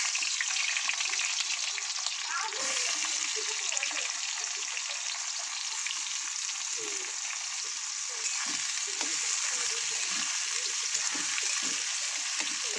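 Onions sliced into rings hiss in hot oil in a pan, a steady, fairly loud frying sizzle punctuated by occasional crackles and stirring scrapes throughout.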